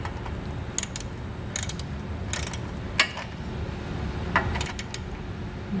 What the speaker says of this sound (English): Using an 11 millimeter socket and an 11 millimeter wrench, we'll go ahead and tighten these down.